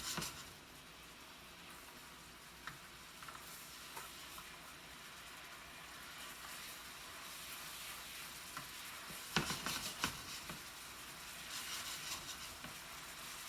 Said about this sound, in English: Basically, you're reheating the steaks now and finishing them up to the temperature.